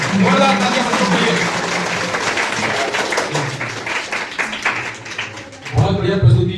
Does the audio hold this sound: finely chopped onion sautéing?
no